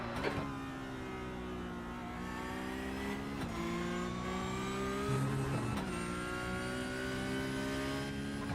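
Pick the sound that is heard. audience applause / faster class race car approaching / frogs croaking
faster class race car approaching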